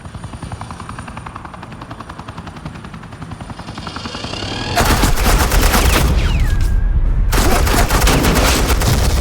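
Sustained suppressing gunfire in the video game Batman: The Telltale Series, rapid automatic bursts over a droning helicopter that swell louder and denser midway, with no speech.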